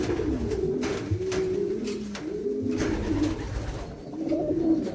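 A racing pigeon coos in repeated soft, throaty rolling calls, close by and fairly steady over a quiet background.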